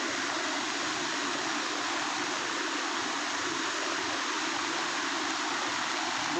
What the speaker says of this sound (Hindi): और नदी भी उफान में चल रही है।